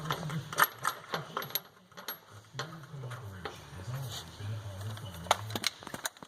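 Bolt with flat washer, V-block washer and nut being tightened on the slide of a Lone Star roller mill, heard as a series of quiet, irregular ratcheting clicks and metallic ticks close by, under occasional low talk.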